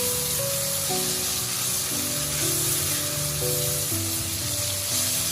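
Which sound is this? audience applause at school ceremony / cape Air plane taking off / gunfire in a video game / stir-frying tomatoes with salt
stir-frying tomatoes with salt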